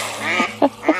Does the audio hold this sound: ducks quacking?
yes